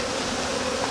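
Honeybees buzz steadily around the frames of a backyard hive, a dense, continuous hum close by with no pauses and no talking.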